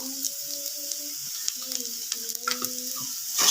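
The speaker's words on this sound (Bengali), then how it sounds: "এবার একটু ভেজে নেবো" Chopped garlic and onion sizzle in a pan with a soft crackle under a tonal hum or whistle. A few short clinks and stirring sounds are heard near the end.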